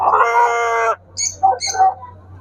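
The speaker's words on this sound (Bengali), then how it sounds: "দেখতে পাচ্ছেন কত সুন্দর একটা মুরগি।" A desi hen calls out loudly and close by with a drawn-out squawk, then gives two short, clipped clucks after a brief pause, over a low steady hum.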